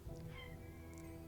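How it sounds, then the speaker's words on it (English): A house cat gives a couple of soft meows over a steady, humming background, fairly faint and distant-sounding, with no talking. "That is my cat meowing"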